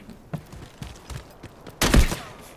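Gunfire in the video game Delta Force: a few scattered faint shots followed by a louder close burst of rapid fire, then quiet.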